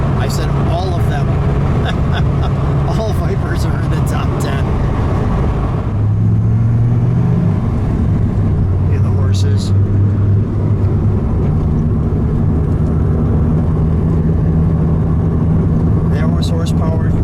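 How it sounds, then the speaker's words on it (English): A red 1997 Dodge Viper GTS with a V10 and six-speed manual rumbles loudly from inside the cabin while driving, its deep drone shifting pitch as it revs through gears, with a voice talking over it. "How is this for driving a Viper? Love that sound."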